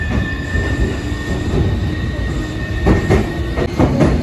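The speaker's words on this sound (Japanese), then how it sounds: "この電車は東急目黒線直通、特急西高島平行きです。" A Sotetsu–Tokyu through-service limited express pulls out of Ebina station, heard from inside the car: a loud, steady rumble of wheels and motors, with rhythmic rail clicks and brief squeals building toward the end.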